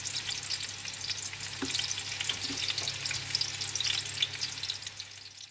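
Thinly sliced onions frying in hot oil in a pot for dum pukht pulao crackle and sizzle continuously, with a couple of soft stirring clinks, moderately loud and with no voices.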